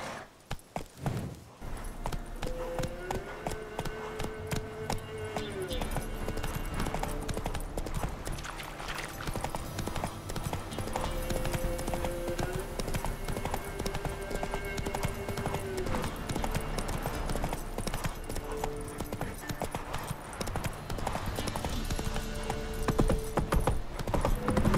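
Roach the horse's hooves clip-clop in a steady rhythmic gallop in The Witcher 3, under a continuous layer of game music and ambient sound, with a faint neigh.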